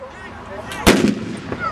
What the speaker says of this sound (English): And all through this constant, non-stop firing of muskets.